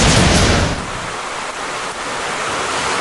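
Heavy rain pours down in Nueva Ecija in a dense, unbroken hiss, loud and steady throughout, slightly heavier at the very start.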